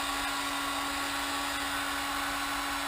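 A Wickes heat gun runs steadily on its lowest setting, 1, giving a continuous airy blower whoosh with a constant motor hum, close up and unchanging, with no voices.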